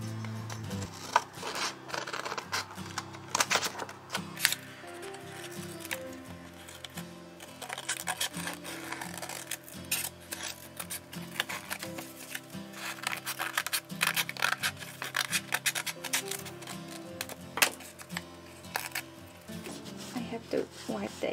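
Scissors cutting paper for an art journal collage: a series of close, crisp snips and rustles in irregular bursts, with someone talking intermittently over the work.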